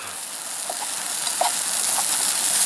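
Onions frying in a pot on a portable canister stove, a loud continuous hiss and sizzle close by, with a few soft stirring clicks over it.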